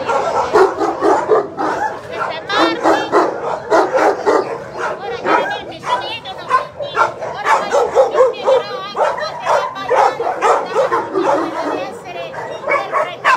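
Dogs at a municipal kennel in Grosseto bark and yip, heard faintly under continuous close talking in Italian throughout.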